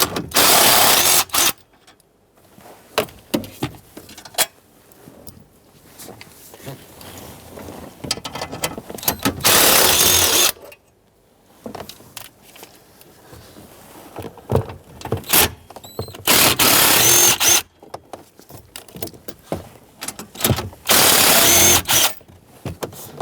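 A ratchet backing out four 10mm bolts that hold the airbag in a 2008-2010 Ford F-250 Super Duty with a 5.4L V8 gives several loud, buzzing bursts, separated by quieter handling noises and short clicks.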